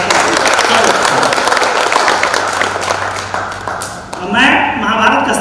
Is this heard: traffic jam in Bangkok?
no